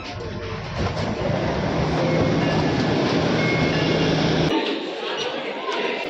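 A Delhi Metro Yellow Line train runs with a loud, close, steady rumble that drops off abruptly near the end, with voices heard over it.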